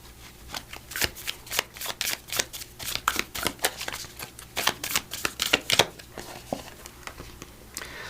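Oracle cards being shuffled by hand, with a rapid run of crisp, rhythmic riffling bursts close up that continue throughout without talk.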